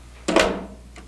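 An Epson F2000 printer's ink bay door is pushed shut, giving one short, close plastic snap with a brief rattle, then a faint second tap a moment later.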